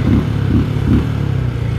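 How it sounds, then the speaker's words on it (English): Benelli Imperiale 400 motorcycle exhaust burbling steadily at idle or low revs, a loud, close, low thumping drone with a few gentle rhythmic pulses and no talk. "And the exhaust is also purely good"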